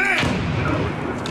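A grenade goes off in a multiplayer shooter video game, a loud booming burst with rumbling gunfire-like thuds that fill the short moment while players shout over it.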